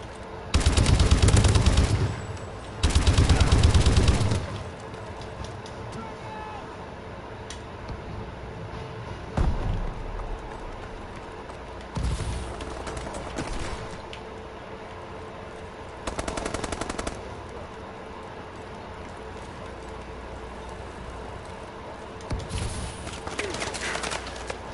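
Call of Duty Advanced Warfare team deathmatch gunfire: loud bursts of automatic fire open the round, followed by scattered shots and quieter rattles over a steady game background.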